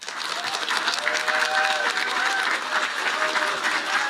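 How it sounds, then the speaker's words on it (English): An audience applauds during an ISS contact event in Dublin, steady continuous clapping from a crowd, fairly loud, with faint tonal radio sounds running beneath it. "big round of applause."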